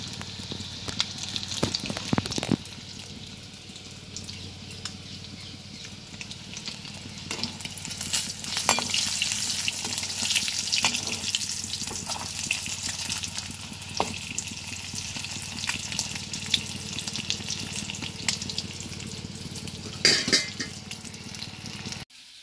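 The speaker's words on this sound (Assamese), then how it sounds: "এয়া দুপৰীয়া ভাত খাবলৈ ডিম ফ্ৰাই কৰি লৈছোঁ" Eggs frying in a pan for a lunchtime meal, a steady soft sizzle running throughout with scattered clinks and scrapes of a spatula, a louder knock near the start, no talking.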